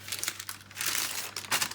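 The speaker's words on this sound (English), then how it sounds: "just put this parchment paper back" Parchment paper crinkles in a short series of soft rustles and crackles as it is laid back over layered heat-transfer vinyl on a canvas, close and fairly quiet, with a faint steady hum underneath and no talk.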